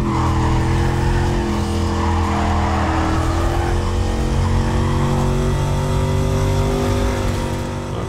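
A Dodge Charger races in Need for Speed Carbon, its engine roaring continuously while the tires squeal and skid through the whole stretch, loud and unbroken.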